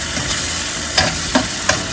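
Peeled, diced canned tomatoes being stirred into a sizzling sauce in a pan for baked pasta, a steady loud frying hiss close up, broken by a few scraping clinks of the spoon.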